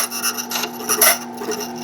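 A key cutting machine grinds a small edge-cut key blank layer by layer, giving a close, rasping, filing scrape in uneven bursts that swell and fade over a couple of seconds.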